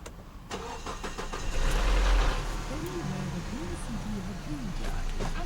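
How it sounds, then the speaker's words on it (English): A car with a fuel pressure fault cranks over and catches, its engine settling into a steady idle close by, with brief voices heard in the background. "Let's start the car first."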